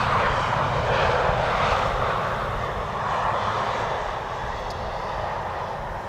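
An airliner arrives at Amsterdam Schiphol Airport with a steady, loud jet engine roar that stays near and slowly fades a little over several seconds.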